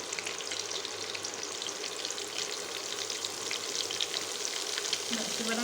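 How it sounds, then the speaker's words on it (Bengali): Diced parboiled potatoes with salt and turmeric fry in a pan, making a soft, continuous crackling sizzle at moderate distance with no voices. "এবার আমি আলুটাকে খুব ভালো করে ভেজে নেব"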